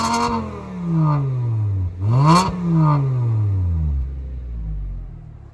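Volkswagen Jetta MK5 with a straight-pipe exhaust, a loud, close, deep exhaust note that revs up and falls back twice before settling into a low, rumbling idle.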